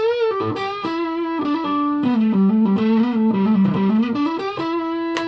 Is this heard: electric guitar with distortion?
yes